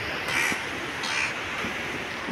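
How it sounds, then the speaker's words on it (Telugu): A crow caws outdoors on a coastal trip from Rushikonda to Tenneti Park, giving a few short, moderately loud calls spaced apart over steady background ambience. "కాకి ఏదో చెప్తుంది, నాకైతే అర్థం కావడం లేదు."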